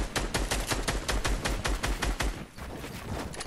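Gunfire in Fortnite, a rapid burst of about a dozen evenly spaced loud shots lasting over two seconds, then a brief lingering tail.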